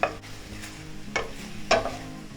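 Cubes of pumfu sizzling in a hot pan while a utensil stirs and scrapes them, a steady frying hiss broken by a few sharp clinks and scrapes, close up with no talking.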